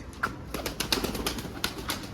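White pigeons give short, soft calls and flutters, with several brief bursts spread across a moment of open outdoor air.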